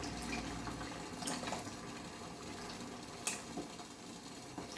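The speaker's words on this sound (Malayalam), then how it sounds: "തേങ്ങാപ്പാൽ ഒഴിക്കാം" Coconut milk poured into a chickpea curry over low heat, a soft continuous liquid pour with faint clinks and bumps, fairly quiet and without talk.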